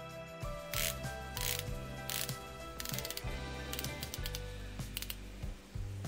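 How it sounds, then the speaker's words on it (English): Steel unidirectional dive bezel on a Seiko Prospex SPB185J1 watch turning in a steady run of low-pitched, punchy clicks, close up and with no talking. "as you rotate it, you have this reassuringly low pitch, punchy click"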